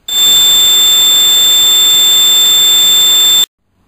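A steel plate scattered with couscous resonates at 4137 Hz, giving a loud, steady high-pitched tone with faint overtones that holds unbroken for about three and a half seconds, then cuts off abruptly into silence.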